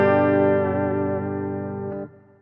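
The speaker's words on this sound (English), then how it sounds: "We want some real amp sounds. So clean amp." SBS MS 260 electric guitar through a clean amp setting, one ringing chord sustaining and slowly decaying for about two seconds before being muted, close and clear with no talking.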